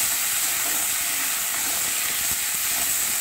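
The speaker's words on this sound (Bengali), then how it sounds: "অল্প একটু এতে নুন দিয়ে আমি ঢ্যাঁড়সটা ভাজছি।" Salted okra frying in mustard oil in a kadai gives a loud, continuous hissing sizzle close by, with light stirring and no speech.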